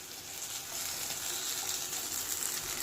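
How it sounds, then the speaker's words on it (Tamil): Chickpea cutlets frying in oil in a pan over a medium flame, a steady bright crackling sizzle that holds at an even level throughout. "வச்சுருக்க சிக்பீ கட்லெட்டை நம்ம எண்ணெயில் சேர்த்துக்கலாம்."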